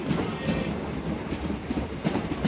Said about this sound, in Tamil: ட்ரெயின் வந்து கொண்டிருக்கிறது. 1வது பிளாட்பாரத்தில் வந்து கொண்டிருக்கிறது.